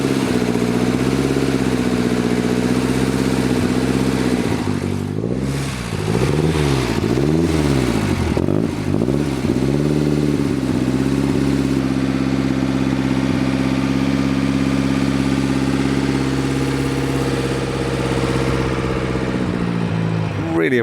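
A century-old prototype Aston Martin on a racing track runs with a loud, continuous engine drone, its pitch rising and falling through several revs before settling into a steady, even note.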